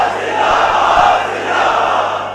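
A large crowd chanting religious slogans in unison at a gathering, a loud, sustained mass of voices rising and falling together.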